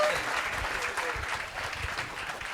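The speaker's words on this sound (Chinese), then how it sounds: "我们掌声欢迎潘秀美" Audience applause rings out to welcome a contestant on a Taiwanese variety game show, a dense steady patter of clapping lasting throughout with a faint voice underneath.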